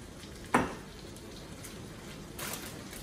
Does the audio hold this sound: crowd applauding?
no